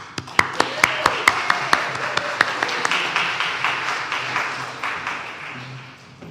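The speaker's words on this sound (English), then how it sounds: "Could we please give a round of applause for our Side with Love ministry?" A church congregation breaks into a round of applause during a morning worship service: a few sharp, evenly spaced claps up close at first, then swelling into a dense wash of clapping that fades toward the end.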